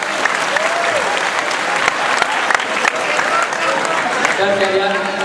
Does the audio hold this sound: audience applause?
yes